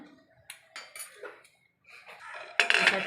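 A metal lid is set onto a cooking pot, with scattered clinks and knocks of cookware, a short quiet gap, then a louder clatter and rattle at the end, close and with no voices.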